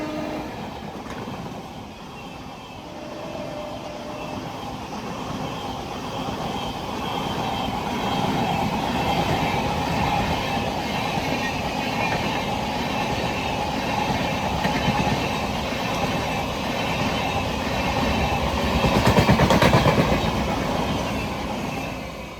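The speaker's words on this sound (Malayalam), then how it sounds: "ഇതേ നമ്മുടെ ലെജൻഡറി നേത്രാവതി എക്സ്പ്രസ് ആയിട്ട് വരുന്നത്" The Netravati Express runs through Pallippuram station, a loud continuous rumble of wheels and carriages with a rhythmic clatter that swells briefly near the end, heard alone with no voices.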